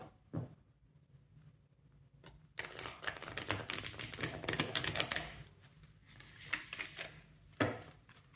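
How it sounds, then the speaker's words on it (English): A deck of tarot cards is shuffled in rapid riffling bursts with crisp clicking flutters, a few isolated taps before and after, close up. "It's going to shuffle like this."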